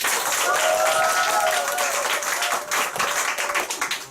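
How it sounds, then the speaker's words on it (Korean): An audience at a business group meeting gives a round of applause, dense clapping that holds strong then thins into scattered claps as it tapers off. "박수 한번 보내주세요."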